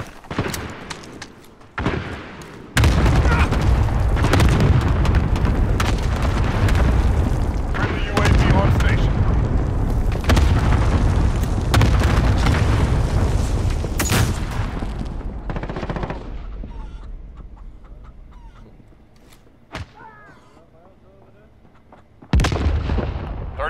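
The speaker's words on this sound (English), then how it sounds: "Allied cluster strike inbound. Danger close." A cluster strike in Call of Duty: Modern Warfare hits as a long, loud barrage of overlapping explosions and gunfire that rumbles on for many seconds, then tapers off before one more blast; voices are heard under the barrage.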